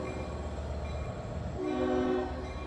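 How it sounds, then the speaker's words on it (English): The Long Island Rail Road South Fork Commuter Connection shuttle train, train 2728, on its final eastbound run at Speonk, gives a steady rumble with a brief horn-like tone swelling midway, heard without any talk. "that's train 2728. The South Fork Commuter Connection Shuttle Train on its final eastbound run of the day."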